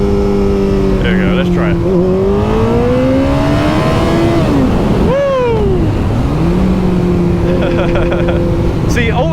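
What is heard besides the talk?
Kawasaki ZZR1400 motorcycle engine revving at full throttle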